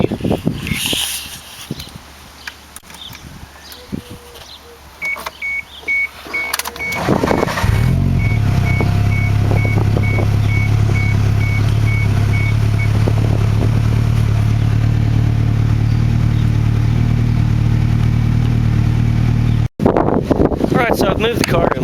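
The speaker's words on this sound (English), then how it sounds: "I'm going to go ahead and move the car to a spot that's less wet" A 1988 Toyota Celica All-Trac starts after some clattering and talk, then idles loudly with a steady, close engine drone as it is driven a short distance, cutting off briefly near the end.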